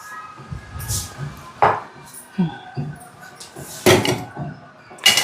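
A metal cake tin is picked up and handled for greasing with oil, giving a series of close, sharp clinks and knocks at irregular intervals, with a few quiet voices in the background.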